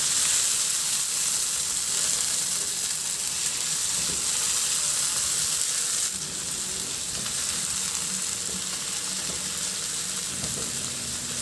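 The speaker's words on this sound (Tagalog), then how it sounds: "Maglagay din ako ng kamatis. Ihalo lang din hanggang sa maluto yung kamatis." Tomatoes sizzle and fry in a hot pan while being stirred for mung bean (monggo) stew, a steady broadband crackle running close and continuous throughout, with a slight drop in level midway.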